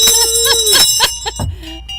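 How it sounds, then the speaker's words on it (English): A bell is struck several times, bright ringing tones with lingering overtones, heard near and fairly loud, one strike after another. "Hit that bell."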